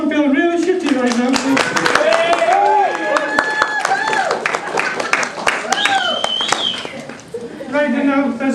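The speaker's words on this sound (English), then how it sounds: "Can you just give me a clap" Audience clapping at a comedian's first public stand-up set, scattered claps mixed with steady crowd noise and loud voices talking and calling out over it across the whole stretch.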